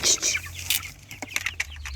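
Cochin chickens cluck softly nearby amid brief scratchy rustles and pecking sounds, with no talking.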